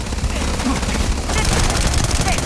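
Rapid gunfire from a shipboard firefight in Starfield, a dense loud burst of shots that grows more intense partway through, with game effects and faint voices mixed in.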